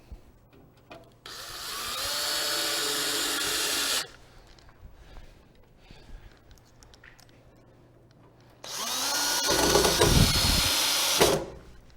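A power drill drives mounting screws for a retrofit master rough-in into a wall backed by a 2x4 block, in two sustained whirring bursts of about three seconds each, loud and close, separated by quieter handling noise.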